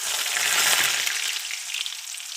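Chopped onions fry in a pan with Bengali five-spice seeds, a steady loud sizzle with crackling that swells early and then settles to a slightly quieter, even hiss, with no talking.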